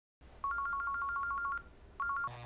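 Phone call being placed, with a rapid series of electronic beeping tones, about ten in a quick even rhythm, then a pause and a shorter burst of three, over low background hum.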